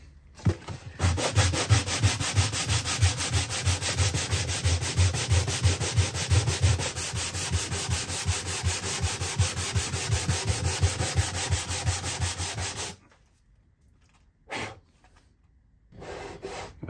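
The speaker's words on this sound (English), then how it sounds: "It's going to give this whole bridge area a bit of a sand with 120 grit." Hand sanding with 120 grit sandpaper across the bridge area of a 1969 Martin D-28 acoustic guitar top, a steady close rasping rub in rapid back-and-forth strokes for about twelve seconds, then stopping with a few faint handling noises.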